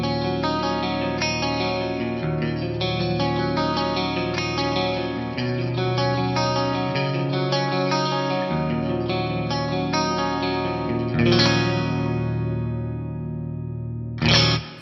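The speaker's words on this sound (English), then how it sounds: "I'm going to add that chorus back and maybe give it a little bit more depth and rate" Clean electric guitar with chorus effect, played through an STL Meridian 65 amp in an 80s-inspired clean tone, ringing chords and notes held steadily for about fifteen seconds, with a brief strum near the end.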